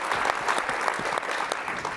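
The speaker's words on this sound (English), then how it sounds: "So you should give yourselves a round of applause," A conference audience claps steadily, with dense, even applause from a sizeable crowd close by, sustained across the whole moment without talk.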